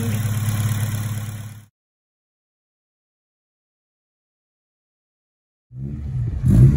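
A Honda Civic Type R EP3 with a K20 engine idles steadily and close, cuts to silence for several seconds, then starts again with a rising rev.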